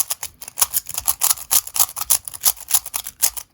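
Rapid, uneven plastic clicking and rattling from a cheap, stiff magnetic Rubik's cube being twisted, with scratchy grinding between turns, close and steady throughout.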